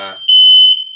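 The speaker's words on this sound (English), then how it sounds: "These damn fire alarms, man, they're happening." A fire alarm goes off with a single loud, piercing, high-pitched electronic beep that holds steady and then fades slightly, cutting in right after a brief burst of a voice.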